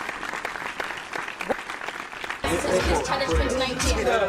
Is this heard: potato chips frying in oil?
no